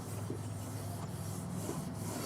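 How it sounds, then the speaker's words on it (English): Boiled linseed oil being rubbed by hand into the wooden handle of a Bahco axe, a faint, continuous soft rubbing and swishing against the wood under a low steady background hum. "rub some boiled linseed oil into it"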